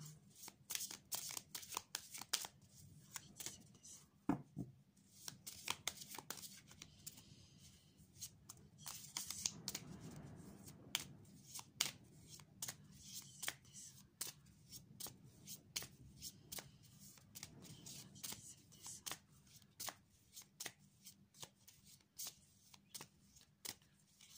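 Hebrew tarot cards shuffled by hand, a long quiet run of crisp riffling flicks and soft card slaps in uneven bursts, close and faint.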